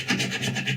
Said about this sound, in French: Donc là, j'attaque. Lame de scie, vous pouvez prendre une vieille lame, ça va très bien.